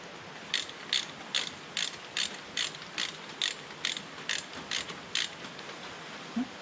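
An old K&T milling machine runs its first test, its pulleys and gears turning with an even, regular clicking beat of about two to three ticks per second over a low hum, moderately loud and steady.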